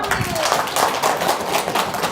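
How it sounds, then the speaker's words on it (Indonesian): A group claps in an evenly spaced, rhythmic pattern indoors during a talk, with voices speaking over the claps. "Tepuk tangan dong."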